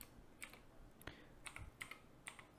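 Light, quiet clicks on a computer keyboard as hashtags are typed, a handful of scattered keystrokes in small bursts with soft background hiss and no speech.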